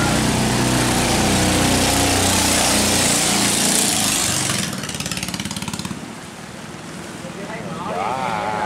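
A small engine drives a homemade boat heading out to sea, a loud, steady drone that dips and roughens partway through as if faltering, with people talking over it.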